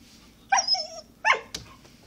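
A puppy wanting to be let inside gives two sharp, close barks, each with a whiny tail, then a brief yip. There is no talk over it.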